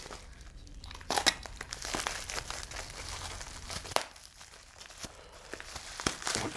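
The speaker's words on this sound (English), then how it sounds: "I think we're going to be doing a lot of cutting of tape here" Crackly crinkling and sharp tearing bursts of plastic blister packaging and packing tape on a Palitoy Action Force SAS toy box, close and fairly loud in an uneven run with a few louder snaps.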